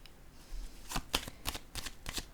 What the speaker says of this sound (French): je vais déposer une carte sur la destinée